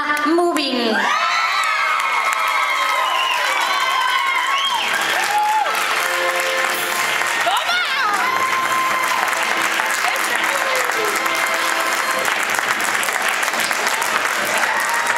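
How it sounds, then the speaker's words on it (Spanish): A dance competition crowd applauds a first prize winner, with loud clapping, high children's shouts, whoops and cheering rising and swooping over it. The din stays dense and energetic throughout, with excited voices in the mix. "esos aplausos que no decaigan"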